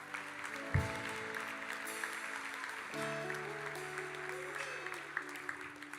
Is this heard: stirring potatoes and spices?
no